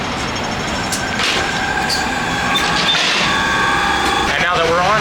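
A Hong Kong tram rumbles along on a city street, a steady loud mechanical drone with faint metallic squeals, while a person talks over it.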